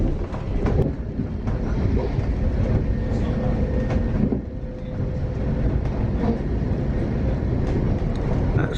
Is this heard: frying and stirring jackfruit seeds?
no